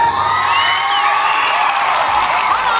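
A large crowd at a booth activity in a mall cheers and shouts loudly and without a break, with overlapping voices and whoops forming a dense, close roar.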